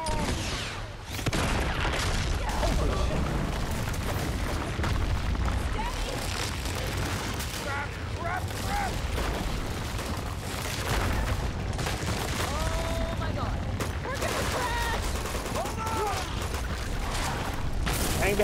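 Sustained gunfire in an Uncharted 2 shootout from Chapter 25, Shambhala's Guardians: dense bursts and rattling shots continue throughout, mixed with booms, game voices and players talking over the fight.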